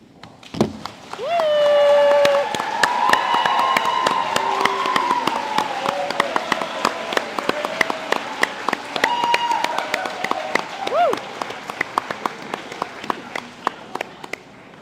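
Audience at a school athletics awards ceremony applauding as coaches stand, steady clapping for most of the stretch with a tonal background sound drifting through and some crowd noise beneath.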